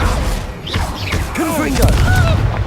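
Spell impacts and magical blasts from the Descendo slam spell in the Hogwarts Legacy video game, a dense combat mix of booms and whooshing effects with voices calling out under the action.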